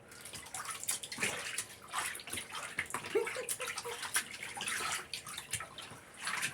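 Water splashes and runs as a salted beaver pelt is rinsed, giving a continuous wash of sloshing and trickling with a brief gurgle midway, moderately close and with no talking.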